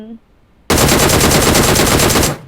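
Loud, close machine-gun burst in a video game, a continuous rapid stream of shots lasting nearly two seconds after a brief quiet lead-in.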